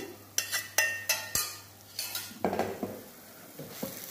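Sweet semolina sheera being stirred in a metal pan after cardamom powder and ghee-fried banana go in, a close spoon scraping and knocking against the pan in irregular strokes, with faint sizzling.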